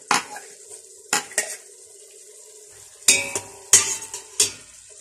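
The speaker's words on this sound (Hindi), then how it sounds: "चंद मिनट टमाटर भूनना है" Tomatoes and green chilies for a Pakistani-style fish curry being stirred in a pan, with sharp metallic scrapes and clinks of a spoon against the pan in irregular bursts over a quiet low sizzle, close up.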